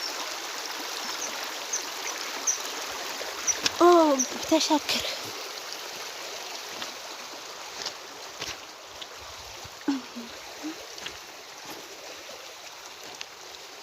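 A rural stream flows steadily in the background, a soft continuous wash, while a person speaks nearby and brief splashes and footsteps interrupt now and then.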